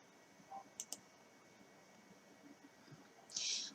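A couple of quick, faint computer mouse clicks, as when selecting copy during a basic computer lesson, in an otherwise quiet room with a brief higher click near the end.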